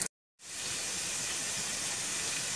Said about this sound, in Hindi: 1/2 कप ऑयल में डाल के उसको पैन में रखा है और साथ में उसको हम गोल्डन ब्राउन होने तक फ्राई करेंगे